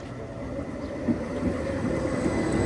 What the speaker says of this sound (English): So that is our tram coming.